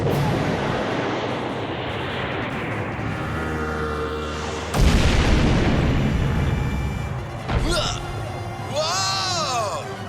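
An animated submarine fires a torpedo, which is heard as a sustained rushing launch followed by a sudden loud booming explosion and further blasts, with voices and cartoon effects mixed in.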